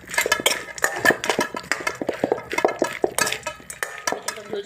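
Dry bhel being stirred and mixed with a green chutney of chillies, coriander, sugar, lemon and salt, a busy run of close scraping and clattering utensil strokes against a bowl.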